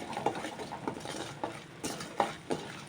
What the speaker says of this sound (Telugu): కరిగి కొంచెం గట్టిపడేదాకా ఇలా కలుపుకుంటూనే ఉండాలి